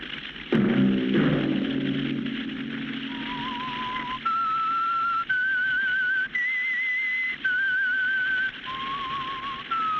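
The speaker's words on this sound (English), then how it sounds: "Let that whistle be your signal for the Signal Oil program, The Whistler" A man whistles a slow, eerie melody of sustained notes, the theme of the 1952 Signal Oil radio drama The Whistler, heard alone and clear after a short low thump that opens it.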